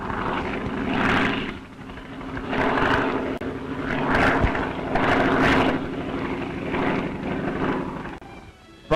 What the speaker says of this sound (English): the plane that wings into the sky to carry supplies to mill, mine, and trap line throughout this vast area